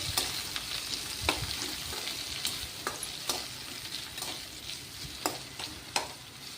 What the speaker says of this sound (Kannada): ಈಗ ದೊಡ್ಡಗೆ ಹೆಚ್ಚಿಟ್ಟುಕೊಂಡಿರುವ 2 ಈರುಳ್ಳಿ ಚೆನ್ನಾಗಿ ಫ್ರೈ ಮಾಡ್ಕೊಳ್ಳಿ